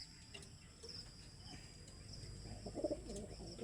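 A pigeon coos softly a few times near the end, amid quiet outdoor ambience with faint insect chirps and distant background noise.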